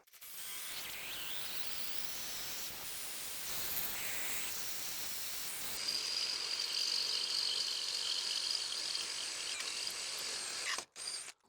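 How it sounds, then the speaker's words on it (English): A power drill bores a hole through a metal Starlink pole mount for a bolt, a loud, close, sustained whine that shifts in pitch as the bit bites, then stops abruptly near the end. "I'm going to drill a hole to get this bolt back through."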